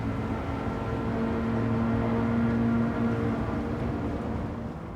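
Toyota BRZ engine in Gran Turismo 7, a steady droning hum with a strong low tone holding at near-constant pitch throughout, heard alone without talk.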